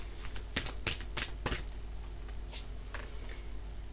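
Oracle cards being shuffled by hand, a quick run of crisp riffling snaps in the first second and a half, then a few softer flicks trailing off, close up with no talking.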